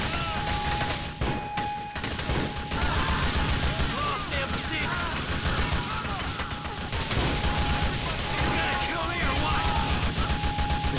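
Heavy, continuous gunfire in the video game GTA The Lost and Damned, rapid overlapping shots close and loud with brief lulls, accompanied by game sound effects.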